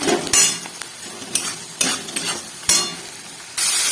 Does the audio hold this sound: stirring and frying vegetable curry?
yes